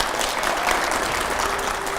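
Steady, dense applause from an audience at a televised political interview show, continuous and loud throughout without any talking over it.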